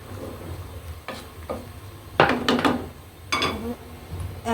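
Rohu fish pieces drop into hot oil for muri ghonto, setting off bursts of crackling sizzle with a few sharp clatters of pan or utensil between quieter stretches.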